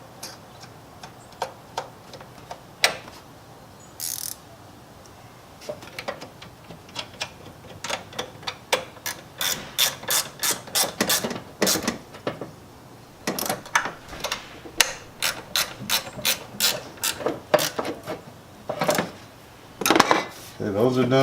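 Socket ratchet clicking in quick repeated bursts while tightening PCM mounting bolts on a 2015-or-later Dodge Challenger or Charger SRT Hellcat, close up and fairly loud, with short pauses between runs of ticks.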